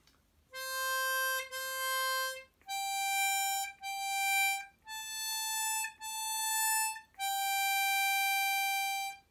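A harmonica plays the opening of Twinkle Twinkle Little Star: a run of sustained, reedy blow and draw notes in a steady phrase, clear and solo with no talking.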